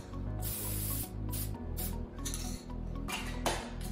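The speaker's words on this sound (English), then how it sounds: "we're just gonna spray paint this little guy, our" A spray paint can hisses in several short and longer bursts as it coats a small knob holder, with background music playing continuously underneath.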